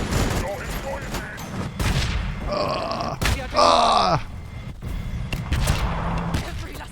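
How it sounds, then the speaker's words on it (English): Bombing run explosions in the Warhammer 40000 Battlesector strategy game: heavy rumbling blasts and bursts of gunfire mixed with grunting unit voice lines, loud and close, in uneven waves across several seconds. "here comes the bombing run"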